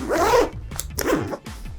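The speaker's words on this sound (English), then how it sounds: "Zip it up with room" A zipper is pulled closed along a Boundary Supply Errant Pro backpack, giving several quick rasping strokes close by with short pauses between them, and no talking.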